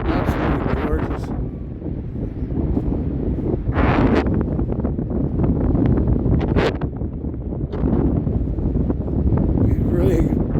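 Strong wind buffets the microphone at Rathtrevor Beach beside a campground, a loud continuous rumbling roar with gusty rustling swells throughout, while a person talks underneath it.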